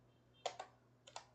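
A few sharp, quiet clicks from a computer keyboard come in two small clusters as a password is typed, close and isolated against a faint background hum.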